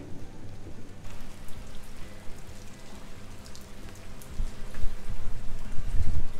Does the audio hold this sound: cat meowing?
no